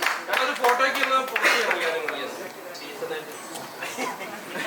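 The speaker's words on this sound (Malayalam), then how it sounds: "നമ്മുടെ എക്സ്ട്രാ ഡീസന്റ് ടീം നല്ല ഡീസന്റ് ആയിട്ട് ഒരു കൈയടി കൊടുക്കാം അല്ലേ?" An audience at a press meet for the Malayalam film ED (Extra Decent) claps for the film team: a burst of dense applause up front that thins into scattered claps under crowd chatter.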